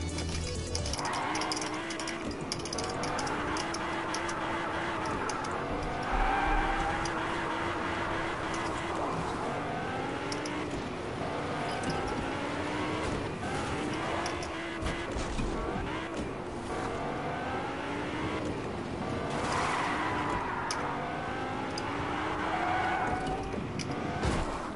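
A green Lamborghini in the Fortnite video game drives steadily with a continuous engine drone and occasional tire skids, lasting throughout with no pauses.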